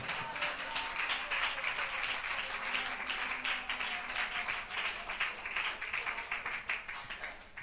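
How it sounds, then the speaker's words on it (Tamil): A church congregation at a Tamil Christian fasting prayer meeting claps together to glorify the Lord, a dense, steady roar of many hands that keeps going for the whole stretch without letting up. "கைத்தட்டி கர்த்தரை மகிமைப்படுத்துங்க பார்க்கலாம்."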